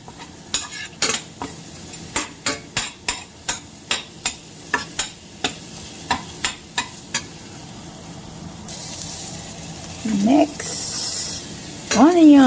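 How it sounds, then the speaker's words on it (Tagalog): Garlic sautéing in oil in a pan for chicken adobo: a steady sizzle beneath a regular run of spoon-on-pan taps and scrapes, about a dozen evenly spaced, followed by louder spattering bursts and a couple of brief squeaks near the end. "Saute the garlic."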